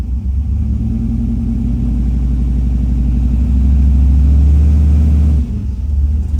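Turbocharged 1970 Chevrolet El Camino engine pulling hard under acceleration, a loud, steady low rumble that builds and holds for several seconds, then drops off sharply near the end before settling again, with no talking.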